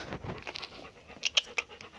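A clingy pet dog pants and shuffles about nearby on a staircase, with quick close breaths and a few sharp scratchy taps from its claws and movement.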